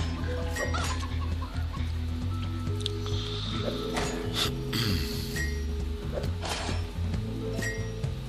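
A chicken in the video game DeathSpank clucks repeatedly in short, close bursts over a steady, busy game soundscape.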